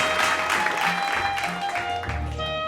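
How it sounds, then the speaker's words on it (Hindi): An audience at a Hindi Diwas school competition results ceremony claps steadily throughout, a moderately loud, dense round of applause that carries on without a break. "इनका भी जोरदार तालियों के साथ में हौसला बढ़ाएं।"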